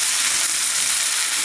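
Meat and onions fry in a pan with a steady, close, even sizzle that holds at one level throughout, with no talking.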